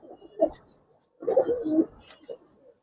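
Giribaz pigeons cooing close by at a pigeon farm, a short coo followed by a longer rolling coo and a soft final note, with quiet gaps between.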